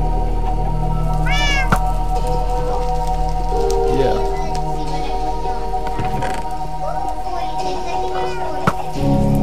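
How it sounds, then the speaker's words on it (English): Cat meows from the video game Minecraft repeat several times over a steady game background hum, with people talking and laughing over them. "I think I'm gonna make that little kitty cat noise."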